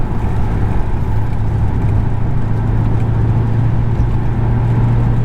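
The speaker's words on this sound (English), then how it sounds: "This is just one V8 engine that you can just enjoy." Lexus GS V8 engine heard from inside while driving, a loud steady low drone with a constant hum and road rumble, no voices.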